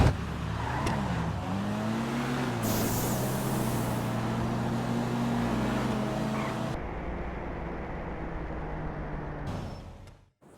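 Nitrous-boosted drag cars launch and race in GTA V: engines roar together at high revs, pitch climbing through gear changes, a loud sustained howl that cuts off abruptly and tails away near the end.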